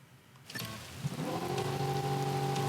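Pouring rain hisses steadily in the Gravel off-road racing game, rising suddenly out of near silence as a car engine's humming tones build and hold underneath.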